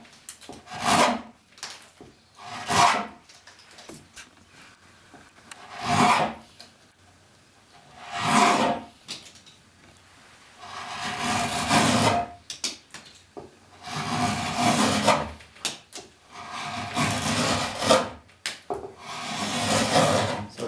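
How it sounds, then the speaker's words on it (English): A carving knife slices along the edge of a wooden seat in long close strokes, each a soft rasping scrape that repeats every two to three seconds. "Try to use as much of the knife as you can, slicing."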